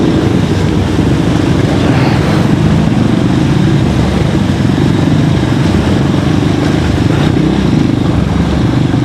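Motorcycles ride along a flooded stretch of MacArthur Highway near San Miguel Bridge, their engines forming a loud, steady, close drone that runs unbroken for about nine seconds with no voices.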